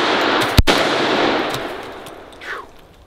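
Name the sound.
Chinese AK rifle firing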